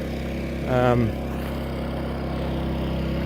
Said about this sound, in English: The noise you can hear in the background is a generator, which is powering this submersible pump.